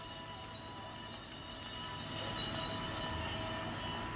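An Amtrak passenger train races down the main line, a steady rumbling roar of wheels on rail that swells slightly louder partway through, heard alone without voices.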